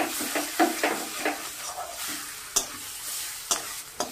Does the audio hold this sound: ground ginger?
yes